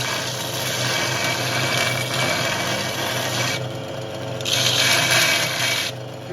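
A homemade belt grinder sands a piece of black steel under light pressure, giving a steady abrasive rasp over a continuous motor whir, with the grinding noise swelling brighter in a few bursts and no talking.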